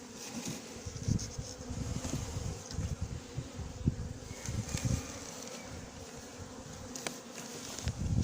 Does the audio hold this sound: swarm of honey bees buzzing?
yes